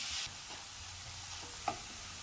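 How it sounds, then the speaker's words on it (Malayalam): Grated carrot sautéing in hot ghee in a pan: a soft, steady sizzle with faint stirring scrapes and one brief clack, quiet and close, with no talking. "അതിലേക്ക് ഗ്രേറ്റ് ചെയ്ത് വെച്ചിരിക്കുന്ന ക്യാരറ്റ് ചേർക്കാം. ക്യാരറ്റ് നെയ്ക്കകത്തൊന്ന് വഴന്ന് വരണം"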